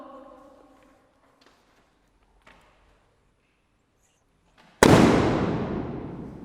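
A few faint clicks and taps, then a single sharp bang from a toy pistol bursts out loudly and rings away over a couple of seconds.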